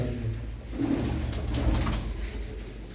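Pigeons kept by a fancier give low, rolling coos close by over about three seconds, with a faint background hum and no talking.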